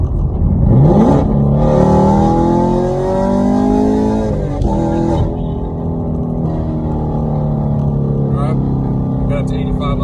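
A 2019 Chevrolet Camaro SS with Borla ATAK exhaust, cam and headers, downshifting at speed with rev matching: a loud throttle blip and rising V8 roar, then a steady deep exhaust drone as it cruises on the highway, close and powerful.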